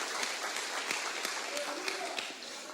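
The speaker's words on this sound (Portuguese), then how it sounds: "Você pode aplaudir a palavra do Senhor nessa noite?" Church congregation at an Assembly of God Sunday service claps, scattered sharp hand claps over a soft bed of applause that thins toward the end, fairly quiet in the room.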